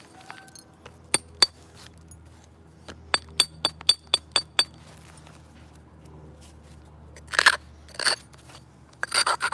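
Stone knapping while trimming the edge of a biface produces a series of sharp, glassy clinks and ticks spaced unevenly and close by, followed by a few louder scraping crunches near the end.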